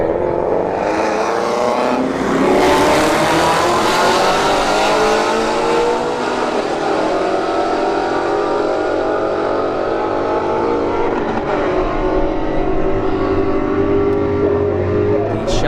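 A Shelby GT350 and an S555 launch side by side at a street drag race, engines roaring loudly and climbing through rising revs and gear changes before fading, with a voice commentating over the noise.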